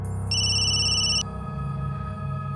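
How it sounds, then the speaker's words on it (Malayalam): An electronic phone ringtone sounds once in a short, high, steady burst, then stops, leaving a low hum in the background. "കൽപ്പന എന്തിനാ ഫോൺ ചെയ്യുന്നേ?"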